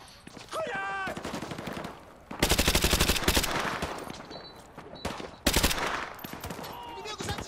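Rapid bursts of automatic gunfire in Call of Duty Modern Warfare 2, two loud sustained volleys with sparser shots and game effects around them.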